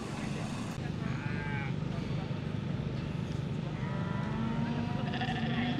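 Sheep bleating and cattle lowing among livestock pens at the Longford agricultural show, several short calls rising over a steady crowd hum with background voices and chatter.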